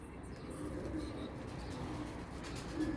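Low, soft cooing of Turkish Hünkari tumbler pigeons blends into a steady, dense background rumble, continuous and fairly muffled throughout.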